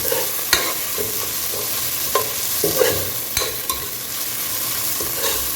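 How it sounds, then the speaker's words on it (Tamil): Onions sautéing in a pan for a parrotfish head curry, a constant close sizzle with intermittent spatula scrapes and taps against the pan. "வெங்காயத்தை நல்லா கொஞ்சம் வதக்கிக்குங்க."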